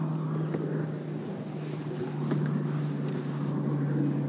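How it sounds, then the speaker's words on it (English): A 2007 Chevrolet Trailblazer TZ idles with a steady low exhaust drone, close and even throughout, with light wind noise and no speech. "Okay, no leaks in the exhaust."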